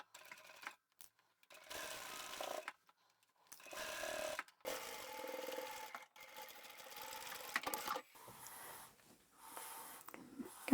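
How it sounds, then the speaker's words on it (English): Sewing machine stitching the short edges of a fabric craft tote bag: several quiet bursts of rapid mechanical whirring broken by brief stops, close up and alone. "let's go and sew the 2 short edges in place"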